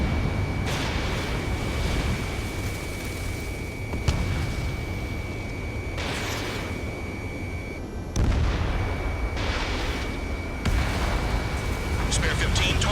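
Explosions and heavy gunfire boom and rumble in bursts as an AA gun is destroyed in Ace Combat 7, with radio voices talking in the mix.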